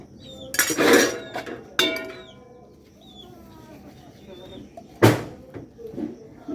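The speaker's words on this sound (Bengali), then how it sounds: "বাসন কটা মেজে নিচ্ছে" Dishes being scrubbed and washed by hand at home, with loud clattering bursts of metal pots and utensils knocking together between quieter stretches, while hens cluck faintly in the background and people talk nearby.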